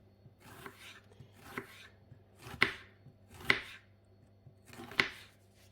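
A knife chops onion for a pepper salad on a board, five or six firm, evenly spaced thuds with crisp edges, close and alone in a quiet room.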